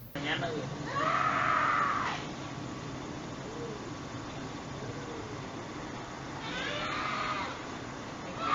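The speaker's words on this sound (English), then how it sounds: "what exactly must have happened to cause someone to scream in such a way" A woman screaming in a ghost recording, two drawn-out high wails several seconds apart, heard faintly through a steady hiss of background noise.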